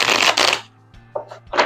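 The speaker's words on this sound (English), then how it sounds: "There, that was a good shuffle." A new, slippery tarot deck is shuffled close up: a loud riffling burst of cards, a brief pause, then softer taps and a second quick riffle.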